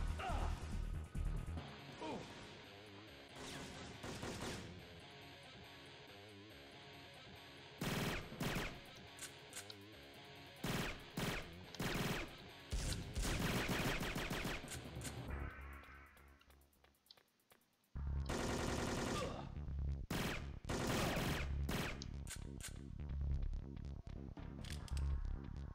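Loud bursts of shotgun fire and crashing impacts in the PS1 game Syphon Filter 2, New York sewers level, repeated in clusters with short gaps, dense and close.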